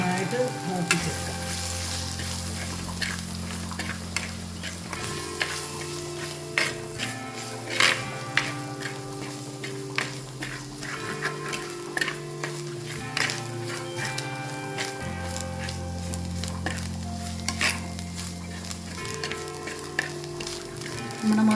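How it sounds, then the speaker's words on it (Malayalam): Masala with coriander and turmeric powder sautéing in a pan, with a continuous soft sizzle and frequent light scrapes and taps of a spoon stirring, without talk. "നമുക്ക് നന്നായിട്ട് മൂപ്പിച്ചെടുക്കാം."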